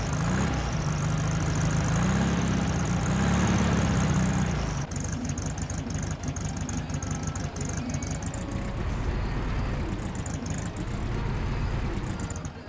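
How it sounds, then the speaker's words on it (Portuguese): Steady, close idle of a 1970 Volkswagen Beetle engine in Farming Simulator 19, a continuous low mechanical drone with a slight shift in tone partway through and no talking. "Esse é o som de 70."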